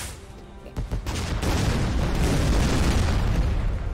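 Video game fireworks bursting in a dense, booming barrage, a few sharp pops at the start giving way to a continuous loud rumbling roar of blasts, with no talking.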